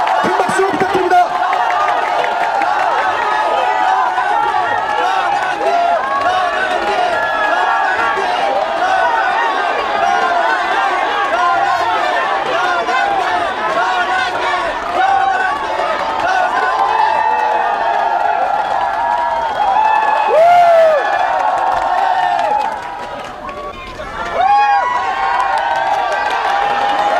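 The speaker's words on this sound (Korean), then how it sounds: "큰 박수 부탁드립니다." Large outdoor political rally crowd in Yeouido roars with sustained cheering, shouting and clapping, a dense, loud, unbroken din that dips briefly near the end before swelling again.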